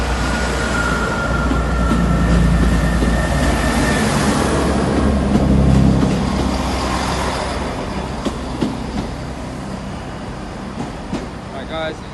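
A Class 166 diesel multiple unit, number 166212, rolls into Exeter St David's station with a steady broad rumble that swells and then eases, while people talk nearby.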